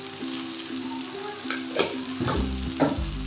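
Pumpkin curry sizzles and fries in a pan while a spoon stirs it, with scraping knocks and bursts of louder sizzling in the second half.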